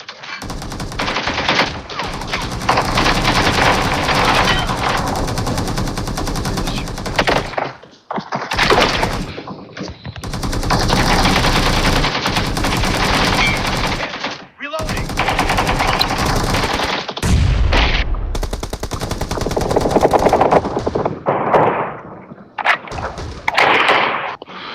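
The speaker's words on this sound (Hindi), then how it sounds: "ये कर रहा है कोई शॉट करने वाला।" Gunfire in the battle royale mobile game BGMI: loud bursts of rapid automatic fire in long stretches, broken by brief pauses and a few single cracks, with faint talk underneath.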